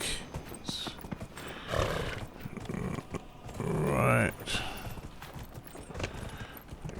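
Hooves clip-clop steadily on a hard surface with occasional snorts and gear rattles, from a video game, while someone talks briefly over the top.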